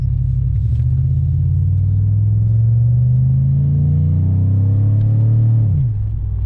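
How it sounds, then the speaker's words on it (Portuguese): A Cadillac DTS V8 with a modified exhaust burbles close by, a deep, loud, steady rumble whose pitch climbs gradually as the engine revs up. It then drops back near the end, with no talk over it. "esse som de V8 borbulhando"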